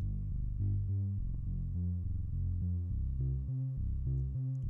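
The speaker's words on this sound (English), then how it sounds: "the sequencer is playing a simple tune" Moog Grandmother synthesizer sequencer playing a simple repeating tune through a Spectravox low pass filter, quiet bassy plucked notes in a steady rhythmic pattern with a muffled, filtered tone.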